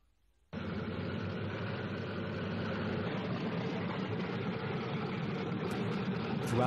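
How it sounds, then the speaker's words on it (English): Twin engines of a Lockheed P-38 aircraft start up abruptly after a moment of quiet, then hold a loud, steady, low droning roar with no voices. "The peculiar sound of the P-38's twin engines became both familiar and hated by the Japanese all across the South Pacific."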